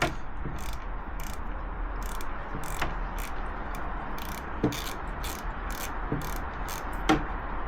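Allen key bolts being loosened on a Triumph Daytona 675 motorcycle triple clamp, a rapid, steady ratcheting click train over faint background hum, close, with occasional sharper metallic knocks.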